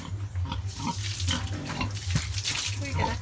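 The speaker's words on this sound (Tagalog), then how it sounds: "Tingnan mo yung baboy." Pigs grunt in a countryside yard in Bohol, a repeated low rhythmic grunting close by, mixed with running water and some background voices.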